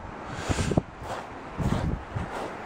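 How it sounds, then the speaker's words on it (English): Gusty wind buffets the microphone in a few low, rumbling bursts, with steady airy noise between the gusts. "Wow, it's really windy tonight."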